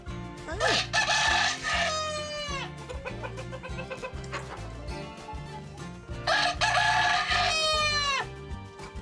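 Roosters crow loudly twice, long rising calls several seconds apart, with hens clucking in between and throughout.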